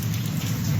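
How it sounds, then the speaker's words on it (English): Heavy morning rain pouring steadily, a dense, loud, continuous roar of drops hitting surfaces with no pauses. "Boy, is it pouring here this morning."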